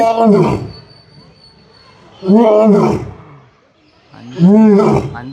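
Three deep, powerful roars come from a lion at Bannerghatta Biological Park, spaced about two seconds apart, loud and near, with a faint crowd murmur underneath.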